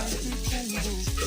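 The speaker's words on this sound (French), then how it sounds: "on va ajouter notre riz déjà nettoyé" Cleaned rice tipped into a pot and stirred for riz gras: a brief burst of sizzling, with scraping and clattering stirs in close succession.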